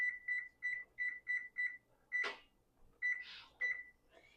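An oven cooking timer is set while chicken au poivre cooks. Six quick, evenly spaced electronic beeps sound, followed by a burst of clatter and a few more beeps among soft handling noises, with no talking.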